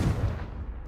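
A single Confringo blasting spell explosion in Hogwarts Legacy, a deep, heavy boom that rumbles briefly and decays, close and loud with nothing else around it.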